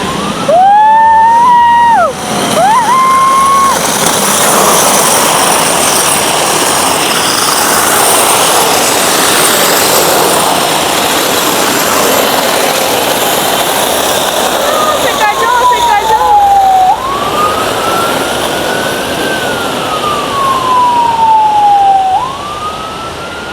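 A loud wailing ambulance siren rises and falls, with a heavy roar of engines or rotors constantly underneath.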